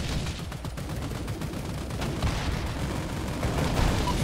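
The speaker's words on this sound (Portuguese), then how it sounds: "vocês viram o tiro que eles estão dando agora, gente?" Dense gunfire and explosions from the military strategy game Forward Defense, a continuous rattling barrage of shots that grows slightly louder toward the end, with no talk over it.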